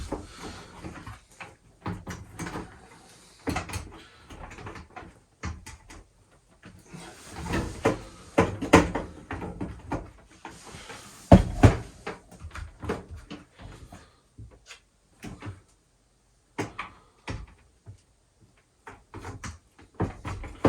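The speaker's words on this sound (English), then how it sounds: "So I'll bring the latch assembly back up there, and we'll slide the door back on." A dishwasher door being slid back onto its hinges during a repair, heard as a series of close, hollow knocks, clunks and scrapes in irregular bursts, with quiet pauses between them.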